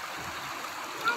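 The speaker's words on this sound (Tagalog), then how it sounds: "Nakasalaga ng current ng tubig." Strong current of floodwater rushes past, a steady watery rush of moderate level under the wind with a small splash near the end.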